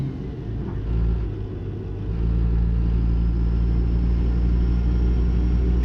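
A heavy truck engine in American Truck Simulator, hauling a step deck trailer, rumbles low and steady, then swells louder around the two-second mark as it revs up through a gear change and holds at a higher drone.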